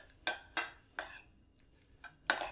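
A spoon clinks against a bowl while a peach, pear and blueberry salad is gently mixed, giving five distinct close taps with short scraping tails, irregularly spaced with a longer gap near the middle.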